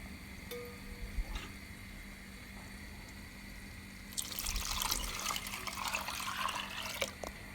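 Whisked milk mixture poured into hot caramel for a two-tone milk pudding, a soft liquid pour and sizzle that swells in the second half and stays fairly quiet throughout.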